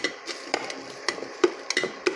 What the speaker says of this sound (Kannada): ಇದನ್ನು ಚೆನ್ನಾಗಿ ಮಿಕ್ಸ್ ಮಾಡ್ಕೊಳ್ಳೋಣ.